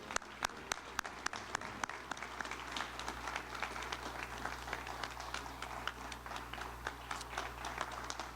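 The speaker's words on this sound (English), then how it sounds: "let's have one more round of applause for all of our servicemen and women" Audience applause at a service-honoring ceremony, steady and sustained clapping from a large crowd with a few sharper nearby claps standing out, continuing throughout without talk.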